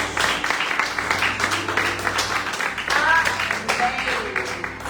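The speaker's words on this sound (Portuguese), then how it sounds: "Dê aplauso para Jesus" A congregation at a Wednesday church service applauds in a steady, dense wash of clapping, with voices calling out over it throughout.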